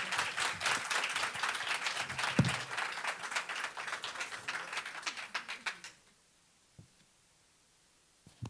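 A conference audience breaks into dense, sustained applause that stops abruptly after about six seconds, leaving near silence with a couple of faint knocks.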